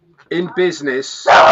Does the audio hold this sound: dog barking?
yes